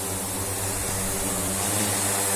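A large drone carrying a SIYI UM982 RTK module hovers nearby, its propellers making a steady, loud whirring drone with no talk.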